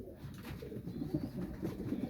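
Soft, low cooing of pigeons repeating close by, with gentle bird murmurs over a quiet background.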